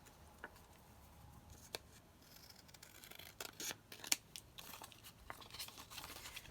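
Scissors snip through a plastic cereal box liner in a few quiet, scattered cuts with faint crinkling of the thin film, close up, with no talking.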